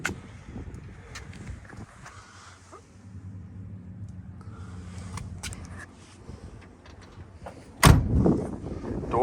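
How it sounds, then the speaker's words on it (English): Doors of a 1970 Buick GS with an LS engine swap being shut, a few soft thuds and rustles building to one solid, louder slam near the end, with no talk. "Doors shut nicely."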